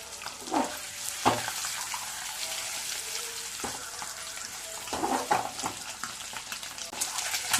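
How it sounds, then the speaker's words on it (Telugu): Boiled eggs fry in hot oil in a pan with a steady sizzle, broken by a few louder scrapes and clatters as they are turned over, close and fairly quiet. "నాలుగు వైపులా బాగా వేగేంత వరకు తిప్పుకుందాము"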